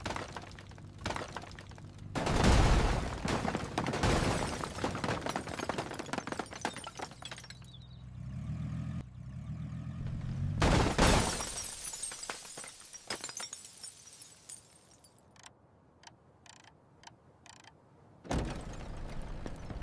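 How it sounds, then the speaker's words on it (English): A violent car crash into wooden crates: several sharp bursts of shattering glass and clattering, grinding, twisting metal, with brief quieter gaps between the impacts. "Metal twists, glass shatters, and the wooden crates detonate into a cloud of splinters."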